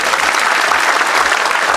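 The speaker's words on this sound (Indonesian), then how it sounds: "Tepuk tangan buat kalian." Steady, loud audience applause at a youth innovation event in Indonesia, a dense continuous wash of many hands clapping close by with no pauses.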